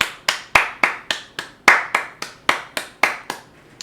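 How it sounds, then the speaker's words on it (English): A single pair of hands claps about fourteen times in a steady rhythm, sharp and close, with no crowd joining in. "Just a quick round of applause for me."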